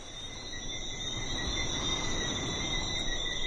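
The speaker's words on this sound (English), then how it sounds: "There's just the sound of the breeze and these little frogs that come out at night and chorus all over the island" A steady nighttime chorus of little frogs fills the air on a tropical island, continuous high-pitched calling layered over a soft breeze rumble, with no voices.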